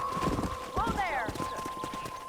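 Horse hooves clip-clop in Red Dead Redemption on PS5, a steady rhythmic patter of hoofbeats under a voice, with a brief whinny-like sound in the middle.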